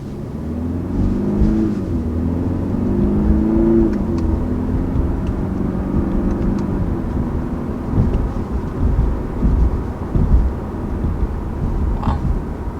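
A 2019 BMW 3-Series engine accelerates in sport mode with a steady low rumble that rises in pitch and then settles into road and tyre noise, heard from inside the car.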